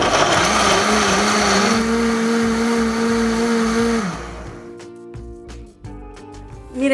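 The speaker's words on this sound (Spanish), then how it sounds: "Y esto lo vamos a licuar con los ajos, el comino, pimienta y clavitos de olor." A blender runs loudly for about four seconds, blending soaked beans with garlic, cumin, pepper, cloves and chile cooking water. Its steady whine then winds down and stops, followed by quieter kitchen clatter.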